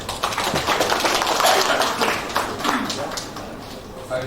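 Applause at an Islamic college graduation ceremony in Pematangsiantar, a short round of rhythmic clapping from a crowd in a hall with a voice speaking over it.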